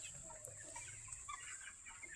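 Broiler chickens resting in a poultry shed, giving faint scattered clucks and soft calls over a quiet background hiss.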